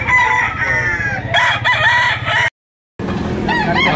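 Roosters crow loudly at a busy chicken market, a long close crow followed by a brief gap and another crow, with clucking fowl and crowd noise around them.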